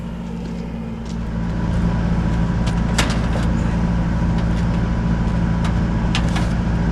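A plow truck engine with a dead battery cranks and runs on a jump start during the first snow, a steady loud rumble that swells after the first second and holds, with faint clicks and knocks over it.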